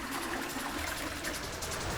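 Toilets on a cruise ship flush and drain, a steady rushing, trickling water sound running continuously at moderate level with no speech.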